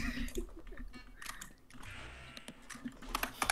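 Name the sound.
typing on a computer keyboard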